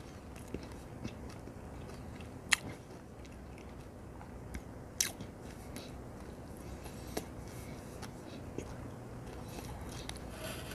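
Crunchy freeze-dried fried egg is eaten up close, with quiet, scattered crisp bites and soft chewing crunches spread irregularly over a hushed background.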